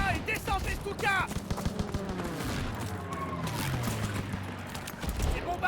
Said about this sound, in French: Prends ce canon anti-aérien et descends tes Stuka!